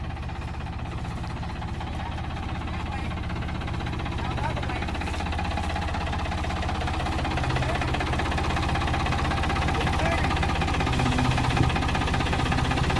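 A tractor engine runs steadily as the tractor is driven, a loud, continuous mechanical drone with a knocking, vibrating texture that holds for the whole stretch.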